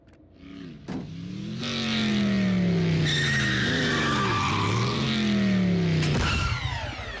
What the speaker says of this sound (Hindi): क्या रफ्तार थी आरसी, 120 पर तो यूं पहुंच गई